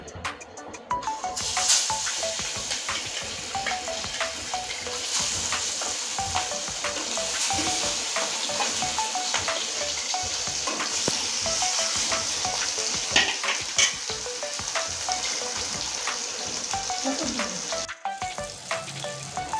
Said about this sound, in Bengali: মাছটা এবার তেলে ছেড়ে দিচ্ছি।